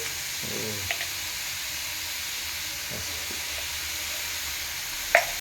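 Cumin and turmeric fry lightly in a pan with oil and green chillies while cooking aloo paratha filling, making a soft continuous sizzle with a few faint stirring clinks and taps.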